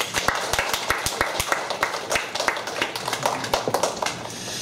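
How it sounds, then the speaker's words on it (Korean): Clapping from a church congregation, a sparse group with distinct separate claps at an uneven rhythm, moderately close and without voices over it. "박수 한번 쳐주세요."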